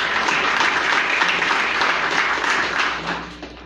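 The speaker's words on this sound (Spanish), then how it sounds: "Un aplauso para el licenciado también." Audience applause at a school closing ceremony in Buena Vista, Concepción Tutuapa, San Marcos, Guatemala, honoring a licenciado: dense, steady clapping from a crowd close by, holding strong before tapering off near the end.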